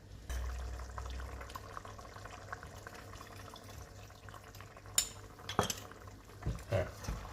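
Slurry being stirred into a cooking pot, soft scraping and swishing of a utensil against the pot with a few sharper clinks near the end, quiet and close, with no talking.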